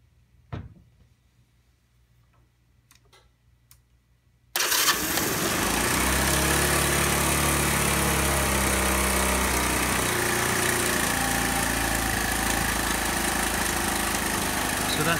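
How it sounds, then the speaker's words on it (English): Honda C70 Passport motorcycle engine, a few handling clicks and then an abrupt start into a steady, loud, close idle with a constant buzzing drone until the end. "So that's it, running normal idle."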